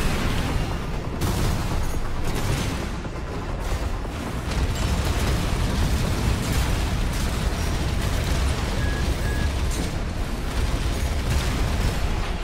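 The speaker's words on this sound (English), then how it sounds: "Motherfucker has a grenade launcher." Grenade launcher blasts and other weapon fire from a mech battle in Armored Core VI: Fires of Rubicon, forming a continuous dense roar of booms and bursts that stays loud throughout, with no talking.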